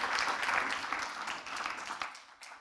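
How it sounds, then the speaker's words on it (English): Brief, steady applause from the audience at a food tech challenge grand finale, moderately loud throughout and tapering off at the end. "Big applause for Gabriela."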